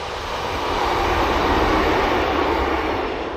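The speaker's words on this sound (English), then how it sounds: "Here's a train coming to spoil me tranquility." A train rolls past beside an English river on a summer night, a loud, steady broadband rumble that fills the whole moment with no break or other sound.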